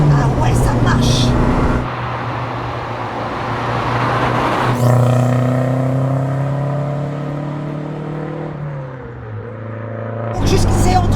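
Renault 5 GT Turbo engine revving up through the gears as the turbo spools, a rising whining drone that climbs and falls between shifts, with people talking inside the car over it.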